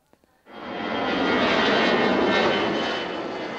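A fixed-wing passenger plane on a flight to Jamaica, heard from inside the cabin as a loud, steady broadband engine roar that fades in after a couple of small knocks and then holds constant.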